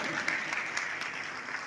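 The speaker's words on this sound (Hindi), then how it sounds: "जोरदार ताली।" Audience applause at a Hindi devotional gathering, a dense, steady wash of clapping that stays loud and continuous throughout with no talking.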